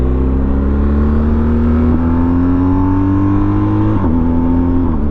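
Motorcycle engine and exhaust revving loudly during a ride touring in Wales, a deep continuous drone with pitch climbing steadily and dipping briefly at gear changes, close and alone with no talk.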